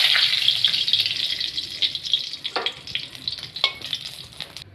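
Steady hiss and crackle of food frying in hot oil, with a few sharper sputters and occasional scraping stirs, close up and fairly loud.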